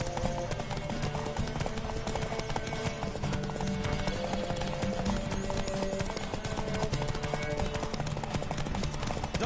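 Rapid hoofbeats of a horse galloping flat out in a race in The Witcher 3, a dense, continuous clatter of clip-clops close by, laid over game music with steady tones running throughout.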